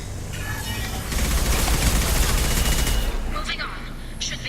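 Heavy video game gunfire from a Mass Effect firefight, a dense, continuous barrage that swells louder after the first second, with bursts of chatter and effects layered on top and a voice speaking in the mix.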